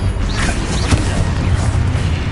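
The Confringo spell blasts in Hogwarts Legacy as a loud, continuous explosive roar with a sharp crack near the middle. The rumble stays dense and close from start to finish.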